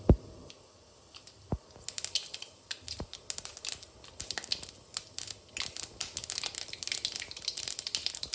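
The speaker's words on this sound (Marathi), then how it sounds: "मोहरी छान तडतडली की मग हळद घालतो आपण" Mustard seeds crackle and pop in hot oil, dense irregular crisp snaps growing busier and steadier over time, close and fairly quiet.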